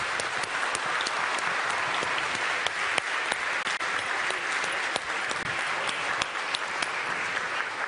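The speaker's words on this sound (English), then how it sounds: "a huge round of applause to all three panelists" Dense, sustained audience applause fills the room for three panelists at a strategy panel discussion, steady and loud throughout with scattered sharp individual claps standing out.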